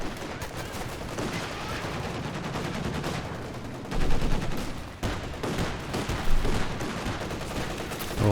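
Machine gun fire in the real-time strategy game Company of Heroes 2, steady rattling bursts mixed with scattered gunshots in a busy battlefield, moderately loud and continuous.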